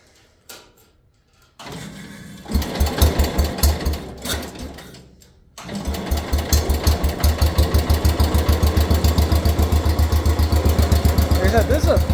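A repaired Farmhandy small engine is pulled a few times with the choke on, then catches and runs with a fast, steady putter, loud and close.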